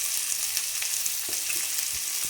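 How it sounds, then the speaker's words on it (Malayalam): Thinly sliced shallots frying in coconut oil, a steady close hiss and bubbling sizzle with faint crackles, continuous and alone. "ചുവന്നുള്ളി കനം കുറച്ച് നീളത്തിൽ അരിഞ്ഞതായിരുന്നു ചേർത്തിട്ട് ഒന്ന് നല്ല ഗോൾഡൻ കളറാണ് അതുവരേക്ക് വറുത്തെടുക്കാം"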